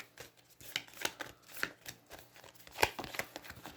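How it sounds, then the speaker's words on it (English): Playing cards for the Aeons End board game being shuffled by hand, a quick run of soft riffling flicks and taps close by, with no talk. "I shuffle with Zaxos and magically get a Focusing Orb"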